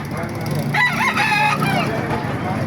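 A rooster crows once in a drawn-out call at a chicken market in Baliuag, Bulacan, heard at mid distance over steady crowd murmur and background noise.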